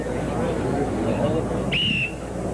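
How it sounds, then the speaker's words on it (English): A referee's whistle blown once to start a strongman event, a clear steady tone of about half a second rising out of crowd babble and arena noise. "Hal Connolly, the director of events, will blow the whistle to start them."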